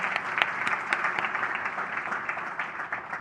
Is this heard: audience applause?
yes